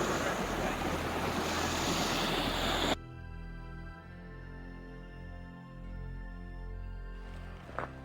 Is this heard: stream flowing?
yes